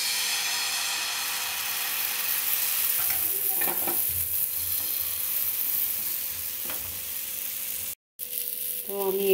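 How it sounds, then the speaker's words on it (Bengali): A mango patishapta crepe frying in a pan gives a soft continuous sizzle with occasional utensil taps and scrapes, close by, with a brief dropout near the end. "আমি আর একটা ভেজে নেব।"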